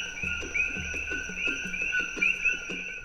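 Coqui frogs call in Puna, Hawaii, an invasive species there. A rapid chorus of two-note chirps repeats steadily and clearly over a faint background of other calling frogs.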